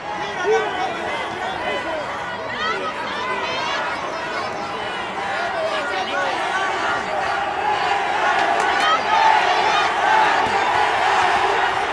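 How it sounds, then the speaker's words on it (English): Large crowd at a Hausa traditional Dambe boxing match, a dense steady roar of many voices chattering and shouting throughout, slightly swelling toward the end. "The crowd is anticipating a feisty match between these fighters."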